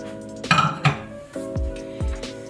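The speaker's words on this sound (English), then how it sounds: "So I'm just gonna put it in this glass measuring cup." Almond bark pieces dropped into a glass measuring cup in a home kitchen: several hard clinks and knocks against glass, close and fairly loud, with quiet gaps between them.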